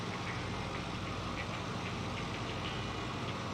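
A P-51 Mustang's piston aircraft engine in a WWII flight video game, a steady low drone that runs at even loudness throughout, with no talking.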